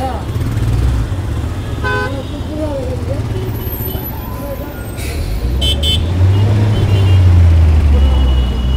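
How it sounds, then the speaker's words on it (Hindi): Heavy road traffic in Pune, jammed by metro construction: a continuous loud rumble of engines, motorcycles and buses close by, with short bursts of car and bike horns honking through the din. "ये देखो बहुत सारा हेवी ट्रैफिक है"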